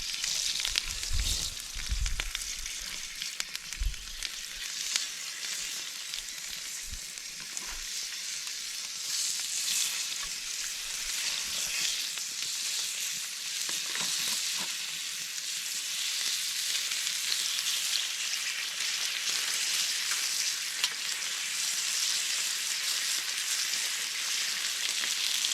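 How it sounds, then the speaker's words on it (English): Cutlets sizzle and fry in a pan at a riverside campsite, a steady bright crackle with occasional louder pops and stirring scrapes near the start. "Let's get these cutlets on then."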